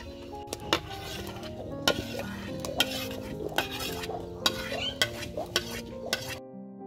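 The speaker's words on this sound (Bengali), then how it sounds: "এখন আমি আমের পাল্পটা দিয়ে দিব। নাড়া দিই।" A spoon stirs mango pulp into milk thickened for mango payesh, giving regular scraping knocks against the pot over a soft bubbling simmer, close and moderately quiet, with no talking.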